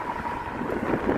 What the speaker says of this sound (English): It's a cloudy, overcast, windy day.